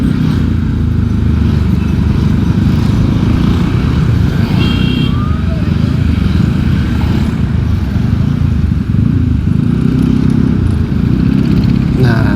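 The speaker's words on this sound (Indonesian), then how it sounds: "cuman suara motor orang aja tuh yang berisik itu masuk" Motorcycle engines rumble steadily nearby with continuous road noise, loud and unbroken, as traffic passes close by, heard while riding wearing an HJC i30 helmet.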